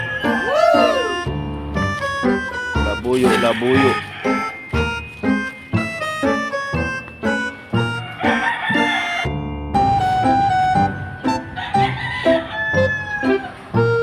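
A labuyo, a wild junglefowl rooster, crows among a busy mix of nearby chicken clucks and calls that continue throughout without pause.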